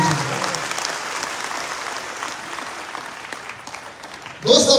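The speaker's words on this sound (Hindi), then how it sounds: "मिस्टर दीपक कुमार सर के लिए एक जबरदस्त वाली ताली होनी चाहिए" An audience at a business event claps together, a steady wash of applause that fades slightly before a brief louder burst at the end.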